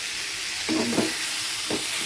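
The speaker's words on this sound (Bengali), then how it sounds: "পটলটা ভেজে নেব দেখুন পটলটাও ভাজা হয়ে গেছে" Pointed gourd (potol) with turmeric frying in hot oil, a steady close hiss of sizzling with a few brief stirring scrapes.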